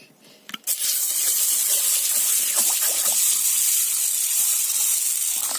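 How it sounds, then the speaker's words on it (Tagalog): Water gushes and splashes steadily into a cooking pot holding mung beans, a loud continuous pour that starts abruptly after a brief clatter and runs without talk. "Tapos, lagyan natin ng tubig."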